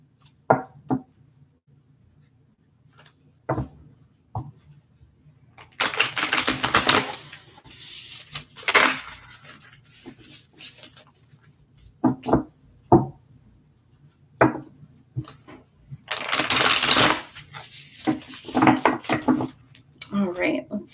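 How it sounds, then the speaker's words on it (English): Tarot cards shuffled in several bursts, crisp riffling flurries alternating with soft taps and quiet gaps, fairly close, with a voice speaking between the shuffles. "There's a couple more shuffles here."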